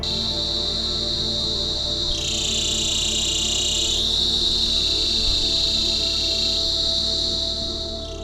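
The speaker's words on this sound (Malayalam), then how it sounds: "കാറ്റിൻ്റെ ഒരു ഇരമ്പലും ചീവീടുകളുടെയും പക്ഷികളുടെയും ശബ്ദങ്ങൾ മാത്രം" Steady high-pitched cricket trilling at a Himalayan lake around 8,000 feet fills the scene without a break, swelling louder for a couple of seconds before settling back to a constant drone.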